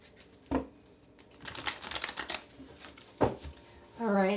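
A deck of tarot cards gets shuffled in a few quick riffling bursts close up, separated by short pauses, with a voice briefly at the end.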